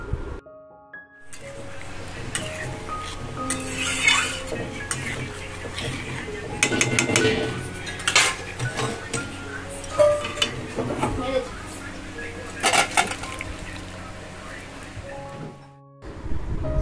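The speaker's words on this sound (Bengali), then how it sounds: "এবার ভেজে রাখা পটল এবং আলু এর মধ্যে দিয়ে আরও ভালো করে খানিকক্ষণ কষিয়ে নেব।" Fried pointed gourd and potato with prawns being sautéed in a pan, with steady sizzling and repeated scraping and clanking of a utensil against the pan, while a voice talks over it at times.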